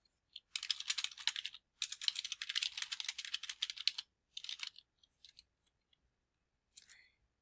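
Text is typed on a computer keyboard in several quick bursts of rapid clicking keystrokes, separated by short pauses and tapering to a few isolated taps.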